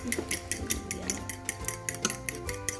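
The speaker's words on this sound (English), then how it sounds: "Then you just take your fork and whisk them all up." A fork whisking eggs in a bowl, rapid rhythmic metallic clicks and taps ticking steadily against the dish, close and moderately quiet with no voices.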